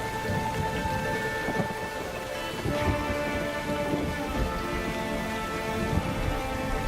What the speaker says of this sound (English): Frequent, unforgiving thunderstorms batter the landscape almost every day.